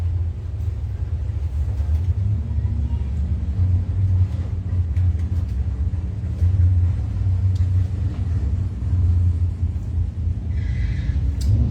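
Drag racing cars at a Bowtie Challenge event, a red Corvette and a Mopar 74 Dart, heard as a steady, heavy engine rumble that stays loud and continuous throughout, with faint crowd noise in the background.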